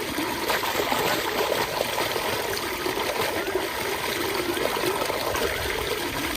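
Irrigation water runs steadily into a farm field, a continuous close trickling and gushing wash with no break across the clip.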